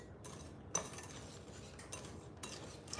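Stirring brownie batter in a bowl with a utensil, faint scraping and a few sharp clinks against the bowl at irregular moments, quiet and close with no talking.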